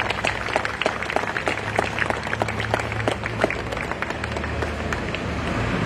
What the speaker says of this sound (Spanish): Los aplausos para ellos, por favor.